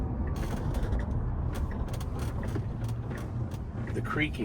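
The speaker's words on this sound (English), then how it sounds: "it just constantly creaks because it's plastic against plastic" Plastic storage bins strapped under the back seat of a Tesla Cybertruck creak and tick steadily as the truck moves, plastic rubbing against plastic in a continuous close-up rattle over low road rumble.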